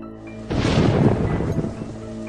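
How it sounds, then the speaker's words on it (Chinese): Rain sound effect in an animated fantasy drama: a sudden loud rushing burst of rain with a low rumble bursts in after a brief quiet moment, then eases to a softer steady patter, with no voices. "下雨了。"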